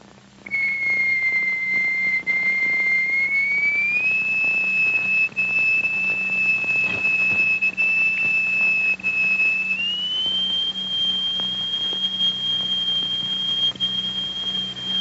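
Pure electronic tone driving a triangular plate with a crystal attached underneath to form a cymatic sound figure, a loud sustained whistle-like pitch that steps upward twice over fifteen seconds with no talking.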